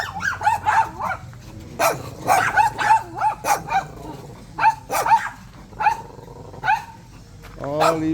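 A pack of dogs at an aircon repair shop in Dumaguete, Philippines, barks, yips and growls in repeated bursts over several seconds, close and loud, with a person's voice mixed in among them.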